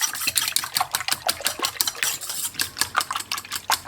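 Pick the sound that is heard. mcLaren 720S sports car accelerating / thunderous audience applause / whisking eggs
whisking eggs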